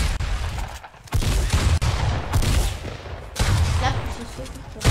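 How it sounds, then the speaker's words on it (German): Rapid bursts of gunfire from a green silenced MP submachine gun in a shooting video game, repeated volleys filling the clip with dense, loud shots while people talk over them. "schießt die grüne Silence MP, schießt die schneller"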